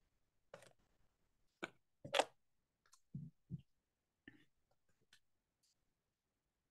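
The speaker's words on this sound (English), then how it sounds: "I'm gonna shuffle the cards" Tarot cards are shuffled close up in a quiet room, giving sparse soft riffles and light taps in irregular bursts with long pauses between them.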